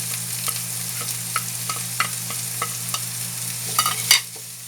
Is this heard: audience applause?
no